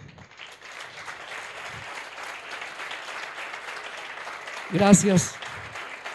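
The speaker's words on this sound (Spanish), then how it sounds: "pido un aplauso para ella" An audience claps steadily for several seconds at moderate volume, and a voice speaks briefly over the applause near the end.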